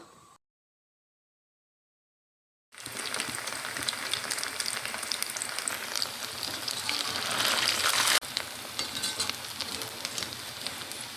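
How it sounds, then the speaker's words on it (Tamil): Leftover idli pieces deep-frying in hot oil until golden brown, a dense, even crackling sizzle that starts after a short silence and carries on close and steady, with no talking. "லைட்டாக திருப்பி விட்டுட்டு கோல்டன் ப்ரௌன் வர வரைக்கும் பொரிச்சு எடுத்துக்கலாம்"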